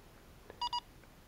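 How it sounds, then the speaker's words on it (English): Two short, clear electronic beeps sound close together from a button press on Aomway Commander V2 FPV goggles, crisp and fairly quiet against near silence. "after 3 beep you can run the scanner"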